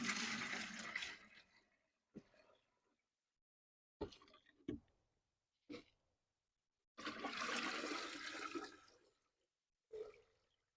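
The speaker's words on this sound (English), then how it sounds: "we're gonna put some of this yummy rainwater in there" Collected rainwater is poured into a pot holding an African bitterleaf plant, heard as several separate close splashing pours with short silences between them.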